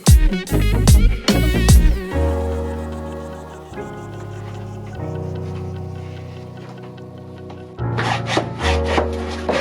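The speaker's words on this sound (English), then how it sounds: "cutting off the bolt that is holding the seatbelt bracket together" Metal cutting on a seatbelt bracket bolt inside a Sprinter van under conversion, with loud harsh bursts of grinding or cutting at the start, then steady ringing tonal machine noise with intermittent scraping, and renewed cutting bursts near the end.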